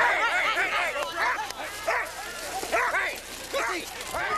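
Sled dogs yelp and bark in repeated overlapping bursts at a mushing race, a chorus of several dogs fairly close and loud over steady outdoor background noise.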